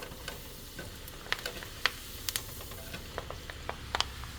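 Avocado deep frying in hot oil gives a faint, steady sizzle with scattered sharp pops and crackles, heard close and alone.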